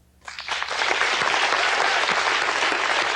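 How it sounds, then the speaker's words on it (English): A television studio audience breaks into applause at a UFO-themed talk show, starting abruptly and swelling into steady, dense clapping that continues loudly without letup. "how many people in the studio audience here have seen a UFO or an alien or know somebody who has. Just applaud."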